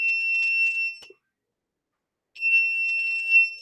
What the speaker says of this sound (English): It's a little alarm box.